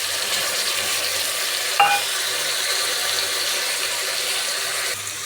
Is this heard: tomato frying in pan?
yes